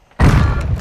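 A grenade explodes in a gunfight video game, giving a single sudden loud boom with a deep rumbling tail that lasts under a second, heard up close without speech.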